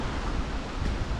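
Strong wind roars in a steady, rushing wash of noise with no rain, buffeting the microphone near a creek where branches have come down.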